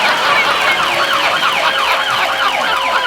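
A voice imitates a wailing ambulance siren, rising and falling in rapid repeated sweeps, loud and close.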